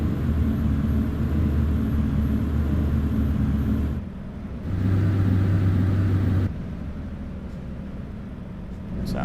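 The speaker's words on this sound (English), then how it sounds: "What's the engine brake sound like?" Heavy truck engine brake in American Truck Simulator, a loud steady low rumble that drops away, surges back with a deeper drone, then settles to a quieter hum.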